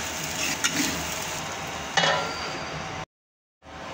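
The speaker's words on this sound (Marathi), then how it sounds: "आता याला ना 5 मिनिटं परतू द्यायचं चांगलं। कमी गॅसवर झाकण ठेवून द्यायचं।" Sabudana khichdi with crushed peanuts cooking in a covered pan over low heat: a steady, soft sizzle with a couple of faint clinks, cutting off briefly to silence before the quiet frying resumes.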